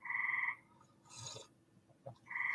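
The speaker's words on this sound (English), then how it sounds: "The frogs are really loud." Frogs croaking loudly at night: two long, buzzing, trilled calls open and close the stretch, with a quieter rustling gap and a soft thump between them, nearby and unaccompanied by talk.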